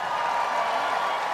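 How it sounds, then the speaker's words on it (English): A crowd at the 150th Westminster Kennel Club Dog Show cheers an Afghan Hound during group judging, a steady, loud wash of indoor cheering and clapping throughout. "you already hear the cheering for the Afghan Hound"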